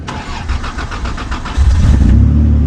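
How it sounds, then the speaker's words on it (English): A truck engine cranks with a rapid, even starter whir for about a second and a half, then catches and settles into a loud, steady idle up close, with no talking. "I'll go ahead, start the truck,"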